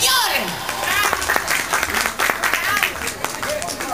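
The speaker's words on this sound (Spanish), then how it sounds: "¡Aplauso para ella!" Lively applause and clapping from a crowd, with voices and cheers mixed in throughout.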